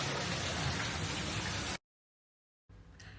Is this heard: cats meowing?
no